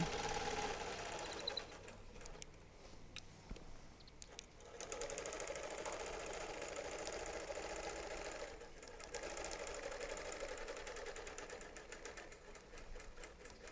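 A sewing machine stitches a quilt with ruler work, its needle running in a steady fast mechanical chatter for the whole stretch, briefly pausing and restarting, close and fairly loud.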